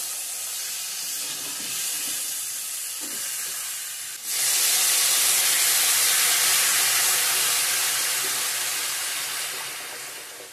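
A pot of fish curry broth with potatoes and tomato bubbles and hisses steadily over the heat, growing noticeably louder partway through and then holding a strong, even steaming rush.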